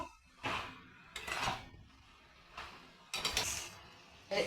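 A spoon scrapes and stirs prawns with cumin and chili powder in a cooking pot for a shapla and prawn dish, about five separate rough strokes at an uneven pace, close and fairly quiet, with no one talking.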